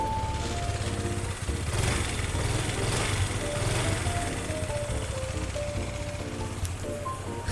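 A 2021 Honda PCX 160 ABS motor scooter with about 16,000 km idles steadily nearby, its low, even engine hum continuous throughout with a faint hiss on top.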